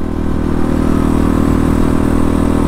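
An X-Pro Titan DLX motorcycle engine runs hard on throttle, a loud, steady, buzzing drone close by with a faint clatter.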